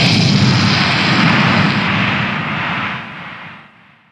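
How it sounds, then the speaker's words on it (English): Rocket engines roaring at launch: a loud, continuous, broadband roar that fills the space with deep rumble and hiss, holding steady for a few seconds before gradually tapering off. "Fire ignites. Smoke and flame. The engines roar."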